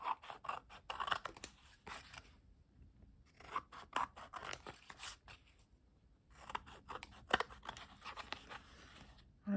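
Close, soft snipping of scissors cutting paper scraps for a collage, three clusters of rapid crisp cuts separated by short pauses, quiet and without talk.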